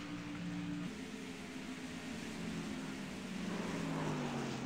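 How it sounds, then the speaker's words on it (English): A racing truck engine in iRacing at Gateway drones loudly and drops pitch in stepped downshifts, its tone sliding lower in a couple of clear shifts over a constant mechanical roar, with no voices. "You hear Derek Myers downshifting there, driving the heck out of that truck."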